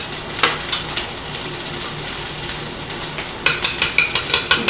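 Eggs and cheese whisked together in a bowl with the yolks being broken up, a steady stream of quick, close scraping strokes, with a burst of sharper rhythmic beats toward the end.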